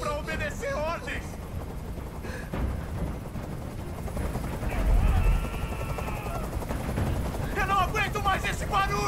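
A helicopter in the video game Detroit: Become Human gives off a steady, loud rotor rumble and wash that runs through the whole scene, under game voices and other noise.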